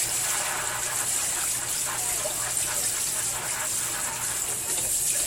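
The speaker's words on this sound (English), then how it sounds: "now I'm going to rinse it off again." Tap water runs in a constant, loud, hissing stream while homemade Colby-Jack cheese is rinsed under the faucet, with no break for the full length.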